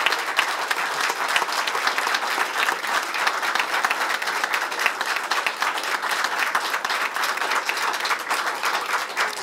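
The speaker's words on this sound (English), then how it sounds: "please join me in a warm round of applause for Attorney General Meese" An award ceremony crowd gives Attorney General Meese a warm round of applause, a sustained, even roar of many clapping hands filling a large room for several seconds, with no voices over it.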